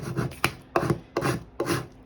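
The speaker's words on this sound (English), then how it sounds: "So I'm going to burnish it with this tool." A hand burnishing tool rubs firmly over vinyl letters on transfer tape in four rasping back-and-forth strokes, each a distinct scraping burst with short pauses between, close and clear.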